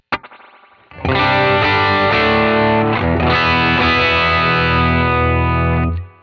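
A sustained clean electric guitar chord through a 1967 Fender Deluxe Reverb amp rings out loud with a roomy, splashy spring reverb tail, held steadily for several seconds before cutting off.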